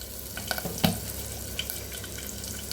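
Cumin seeds and curry leaves hit hot oil in a pan, giving a soft steady sizzle and frying crackle with a few sharp pops and stirring clinks, fairly faint and without talk.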